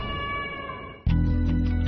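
A cat meows a few times, close and clear, over a steady tonal hum that gives way to a sudden louder drone partway through.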